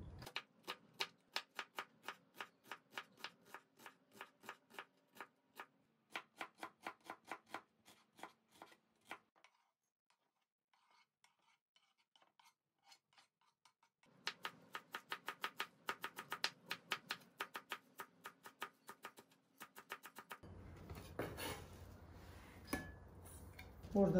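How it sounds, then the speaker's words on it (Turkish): Knife chopping onions on a cutting board for Turkish stuffed peppers, rapid rhythmic taps in quick runs separated by brief pauses, close and crisp, ending with a rougher scraping sound. "Şimdi önce soğanlarımızdan doğramaya başlayacağım."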